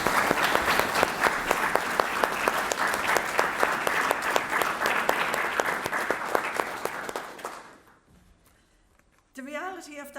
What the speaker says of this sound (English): if people will put their hands together, please, and a round of applause